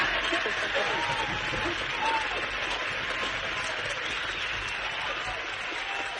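Steady crowd applause rolls on evenly at moderate distance during a radio interview, with voices talking over the clapping throughout.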